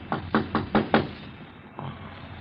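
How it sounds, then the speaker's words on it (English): A radio drama sound effect of knocking at a door: five quick, evenly spaced knocks, a pause, then one softer knock, heard close over faint background hiss. "There's someone at the door."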